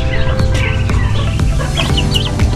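Chicken chicks and ducklings in a backyard brooding pen, a dense, close chorus of peeping and soft clucking calls going on without pause.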